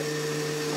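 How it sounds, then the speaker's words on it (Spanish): A kitchen blender runs with a steady, loud motor whine and a fixed droning hum, unchanging and close for a brief moment, with no voices. "No escucha porque está la licuadora."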